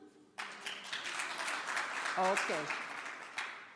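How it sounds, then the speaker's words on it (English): Audience clapping at a primary health care reform meeting in North Macedonia, a fairly soft, steady applause lasting a few seconds, with a brief voice near the end. "Can I hear a clap for the vision?"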